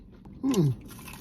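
A single close crunchy bite and chew of fried chicken, brief and crisp, over quiet background.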